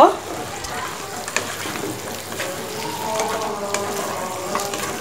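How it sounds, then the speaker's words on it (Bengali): Meat that was fried earlier sizzles as it is stir-fried in a pan to make a dry bhuna-style dish; a steady, close frying hiss runs throughout with occasional scraping, and no talk. "এখন এই যে ভেজে রাখা মাংসগুলো এগুলো ঢেলে দিব, দিয়ে এই যে ভালো করে কষায় নিব।"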